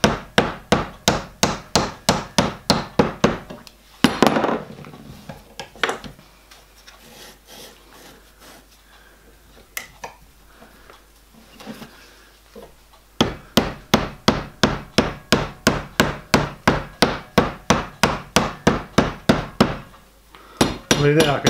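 Rapid, regular hammer blows ring out as a metal tube plate for a miniature steam locomotive is formed, in long runs, pausing midway for quieter shuffling and rubbing before the hammering resumes.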